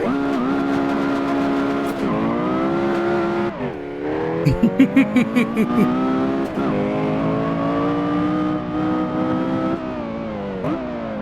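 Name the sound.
Porsche Carrera GT engine revving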